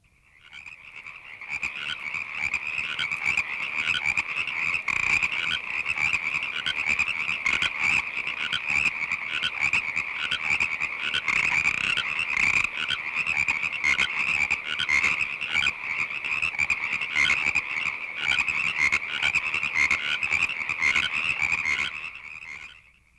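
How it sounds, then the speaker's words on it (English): A chorus of Pacific tree frogs (Hyla regila) in California calls continuously, dense overlapping croaks forming a steady, loud, pulsing din that fades in and out at the ends. "The voice most commonly heard in California at the far side of the continent is that of the Pacific tree frog, Hyla regila."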